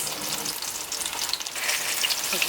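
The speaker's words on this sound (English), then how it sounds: "all I'm doing here is making sure that it's fried nice and golden brown on all sides" A vegan roast fries in a pot with a close, crackling sizzle that rises and falls, and bright spitting pops of oil scatter through it.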